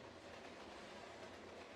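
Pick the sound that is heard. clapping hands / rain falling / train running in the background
train running in the background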